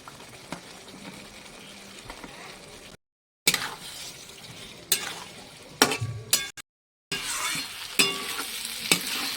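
Fried potatoes being stirred into a spiced peanut curry in a pan, with soft frying sizzle and irregular scraping and clacking stir strokes broken by brief silent cuts.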